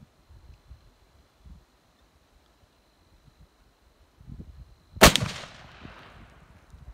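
A single sharp, loud muzzleloader rifle shot fired outdoors at a target, cracking after a quiet stretch of faint rustling and leaving a decaying echo tail.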